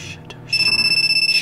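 A computer chat app notification rings out as a steady, loud electronic tone pulsing rapidly in a repeating beeping pattern, starting abruptly after a quiet moment of room noise.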